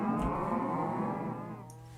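A cow machine in a video game gives out a drawn-out, low mooing from cattle that stays fairly steady and then fades slightly, with no speech over it.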